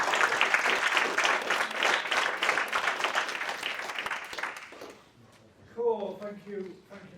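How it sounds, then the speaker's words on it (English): Sustained audience applause at a talk by an electrician, dense and steady clapping filling the room for about five seconds, then fading as a voice begins speaking over the tail. "Let's have another round of applause"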